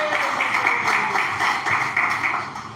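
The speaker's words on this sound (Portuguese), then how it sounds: "Vamos receber o pastor Lucas com mais palmas para Jesus," A church congregation at a worship service in Aparecida de Goiânia claps to welcome the pastor, a dense, steady wash of many hands that stays fairly loud and close for the whole stretch, with no voices on top.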